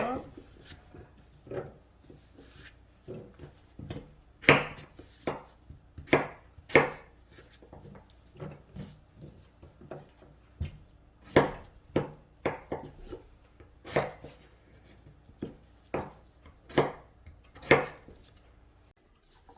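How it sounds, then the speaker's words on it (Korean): A knife chops raw potatoes into large chunks on a cutting board in irregular, crisp thuds spread throughout, close by and fairly quiet. "감자도 조금 네. 크게 잘라주세요."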